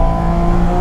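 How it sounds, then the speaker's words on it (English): A 2023 Porsche 718 Cayman GT4 RS with the PDK gearbox in Sport mode and the sport exhaust open revs hard, giving a loud, steady, close engine howl with no break and no voices. "Now we're gonna put the PDK into PDK Sport and the exhaust on. Man, that thing rips."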